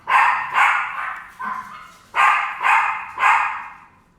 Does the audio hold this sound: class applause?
no